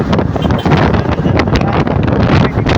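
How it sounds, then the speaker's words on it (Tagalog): Strong wind buffets the microphone in loud, rumbling gusts throughout, with a constant roar and no break. "mas malakas pa yung hangin sa boses po natin"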